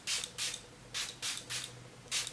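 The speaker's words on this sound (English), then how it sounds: "I'm just gonna spray this all over before I apply my foundation." A facial setting spray from a foggy glass bottle gives six short, crisp hissing spritzes in uneven pairs, close and clear with nothing else heard.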